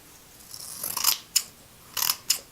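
Sharpened scissors snip through many layers of material in a home test, giving a gradual rasping cut then several short crisp snips, close and fairly quiet with no talking.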